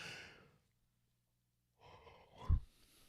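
A man in a music producer's live stream gives a breathy yawn. A long exhale fades out, then after a short silence a second drawn-out, airy breath rises to a brief loud peak. The sound is close and quiet.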